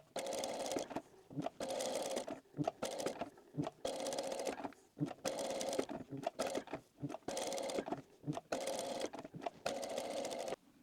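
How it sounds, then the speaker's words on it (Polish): Sewing machine stitching vein lines on a plush pear toy, running in short repeated bursts of rapid mechanical chatter separated by brief pauses, close and clear. "Co kilka oczek przeszywamy pod skosem."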